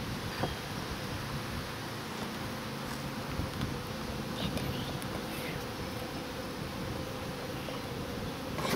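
Honeybees at a hive feed on cake, a dense, steady buzz of many insects swarming nearby, continuous with light rustling and no speech.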